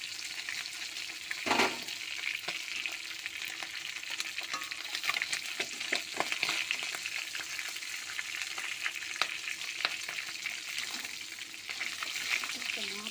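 Tangra fish fry in mustard oil in a kadai with a steady, moderate sizzle and crackle, broken by occasional scrapes and clinks from a utensil.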